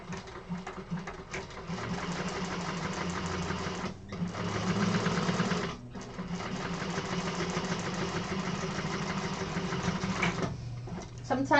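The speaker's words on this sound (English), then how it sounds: "So let's hop on over there and do that top stitching." A sewing machine runs steadily, topstitching a slip pocket on a zippered bag exterior, with a continuous mechanical whir and two brief pauses before stopping.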